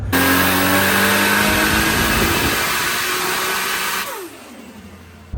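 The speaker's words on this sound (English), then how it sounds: "we got Alex's R32 on the dyno" A Nissan Skyline R32 GTS-4 with a swapped RB25DET NEO engine roars steadily at high revs on a dyno outdoors, loud and close, then drops off sharply near the end as the revs fall away.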